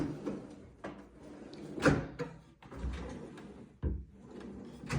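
Kitchen drawers slide open and shut in a flat's fitted cabinets near a dishwasher space and oven, giving a few soft, close rolling knocks and one sharper clack, with quiet room noise between.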